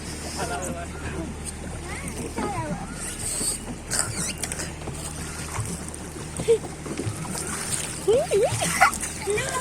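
A paddle boat pushed through water by pedalling, giving steady creaks, mechanical clunks and soft splashing throughout, with people talking and calling over it nearby.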